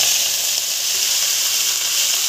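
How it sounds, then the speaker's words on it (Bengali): Cabbage fries in oil over a high flame, giving a loud, steady, unbroken sizzle with no voices. "বাঁধাকপিটা আমি 5 মিনিটের মতন হাই ফ্লেমে ভেজে নেব।"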